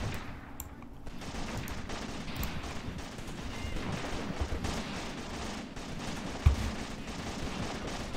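Sustained gunfire in the Graviteam Tactics: Shilovo 1942 war strategy game, with rifles and machine guns crackling continuously at a distance as tracer rounds fly, and one sharper, closer report near the end.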